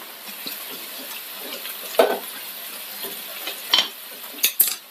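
Onion sizzling in a tablespoon of hot coconut oil gives a soft, quiet hiss, punctuated by a few sharp utensil clinks against the pan.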